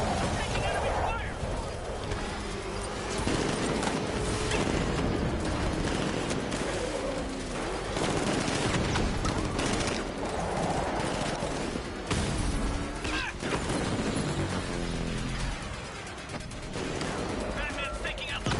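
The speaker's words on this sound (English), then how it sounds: "Taking enemy fire." Dense enemy gunfire in a Batman video game, with rapid bursts and heavy shots running continuously at high volume over a busy action soundtrack, while voices shout over the shooting.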